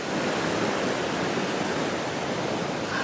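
Rushing mountain stream swollen with snowmelt, a dense, continuous roar of white water, loud and close, steady throughout with no talking.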